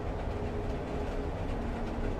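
A train runs on rails with a steady dense rumble and a faint rhythmic clatter, loud and continuous with no talk over it.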